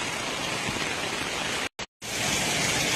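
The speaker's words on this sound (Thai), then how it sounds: "ฝนมากเลยพี่น้อง" Steady heavy rain pours in a dense, even hiss, briefly cutting out for a moment before resuming just as strongly.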